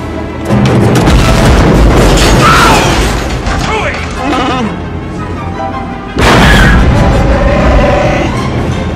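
An asteroid striking the Millennium Falcon, heard as two heavy booming explosion effects, the first at the start and the second a few seconds later, with mechanical rattling and movie-style effects between them.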